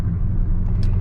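A manual Corvette C5 cruising back roads, its engine a loud, steady low rumble heard from the cabin with no talking, plus a few faint clicks near the end.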